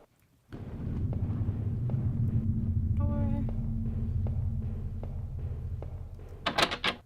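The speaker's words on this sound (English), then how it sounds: "The door was stuck shut." In a video game, a stuck door is tried against a low, steady ambient hum, giving a short rattling burst of clicks, then a few sharper knocks near the end.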